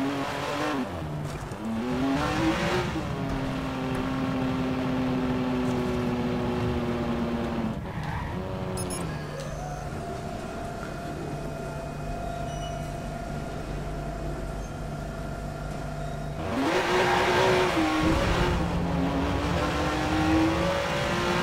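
A car in the video game Watch Dogs drives along with its engine note rising and falling through gear changes, loud and continuous, with tyres squealing briefly and a surge of revving near the end.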